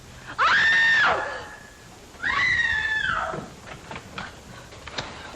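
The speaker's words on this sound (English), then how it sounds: "Who screamed?" A woman's scream in a 1944 comedy-mystery film, two long loud shrieks a second apart, followed by quieter knocks and rustling.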